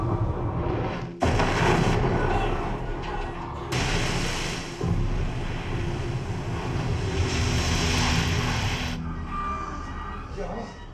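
Two SVS PB16 subwoofers pump deep Godzilla movie bass into a home theater. The rumble is heavy and booming, with loud surging blasts and roaring swells that rise and fall over several seconds.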